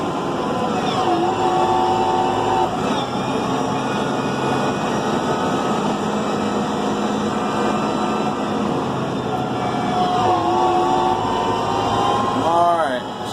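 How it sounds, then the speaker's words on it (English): A New Holland T5.120 tractor with AutoShift climbs a steep hill, its engine droning loudly and steadily while pitch steps change as it shifts up through the gears, with a voice talking over it. "I'm going to start going back up in the gears. This is a pretty steep hill right here."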